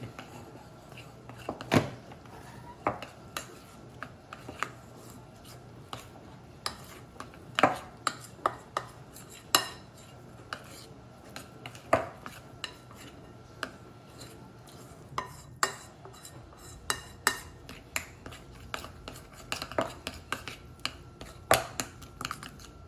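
Baguette dough being stirred together in a bowl, heard as irregular clinks and knocks of a utensil against the bowl, scattered and close over a fairly quiet background.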